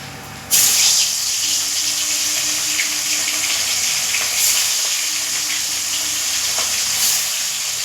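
Potatoes frying in oil for a katla fish curry break into a loud, close sizzle after a brief quieter moment. The sizzle then holds as a steady, bubbling hiss with occasional crackles throughout.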